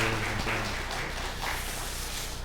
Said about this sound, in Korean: 격려의 박수 빨리 쾌유하라고 우리 박수 한번 하겠습니다